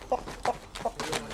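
Roosters at a Thai cockfight give a run of short, sharp clucks and squawks, four or five quick bursts in close succession over a low, noisy background.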